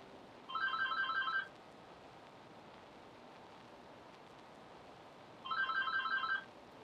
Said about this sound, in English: that ring in the background was a phone ringing